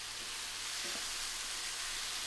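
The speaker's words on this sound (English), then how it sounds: "Now fry that all together for about 7 to 8 minutes, stirring often until the chicken's just cooked through." Steady, faint sizzling and crackling of chicken frying in a pan, a continuous hiss with no voices.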